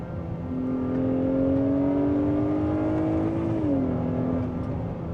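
An Acura RDX A-Spec engine hums steadily from inside the cabin, with a rising tone that drops once as it downshifts through the paddle shifters. It is moderately loud and unbroken by speech.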